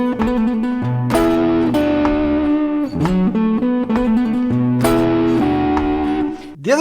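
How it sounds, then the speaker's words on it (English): Chicago blues phrase on electric guitar, with a quick fretted trill of hammer-ons and pull-offs repeated up to three times among ringing, sustained notes. The playing is loud, close and steady, with no talking. "The maximum number of times you should do the trill is 3 times. So that would sound like this."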